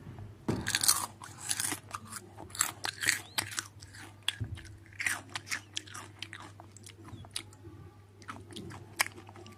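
Crunchy chips chewed close to the mouth, with steady repeated crisp bites and crunches over several seconds and a faint steady background hum, no talking.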